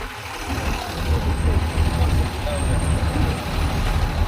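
A bus idles nearby as passengers board for a journey to Taif, its low engine rumble continuous and moderately loud, with soft hissing and indistinct voices mixed in.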